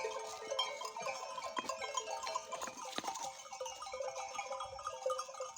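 Sheep bleat repeatedly over a busy outdoor background on a mountain pasture, several animals calling close by with overlapping cries, some faint bell-like tinkling.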